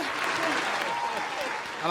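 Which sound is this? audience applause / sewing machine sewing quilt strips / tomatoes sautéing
audience applause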